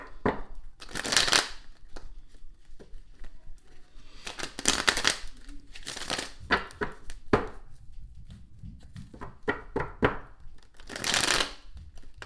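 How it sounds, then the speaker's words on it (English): Tarot cards being drawn and shuffled by hand, heard up close as repeated crisp riffling and flicking bursts with short pauses between them and no talking. "Spirit, let me get 5 more cards out here"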